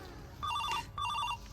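A telephone rings indoors in two short electronic bursts of warbling tones separated by a brief gap, fairly quiet and with no talk over it.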